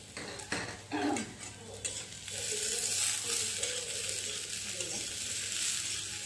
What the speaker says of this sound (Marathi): आणि आता याच्यात जात आहे गवारफली.